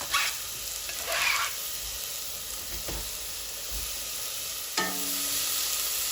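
Red pepper goes into a hot pan for a quick chicken noodle soup, with a steady sizzle and soft stirring and a sharper burst of frying near the end, all without talk.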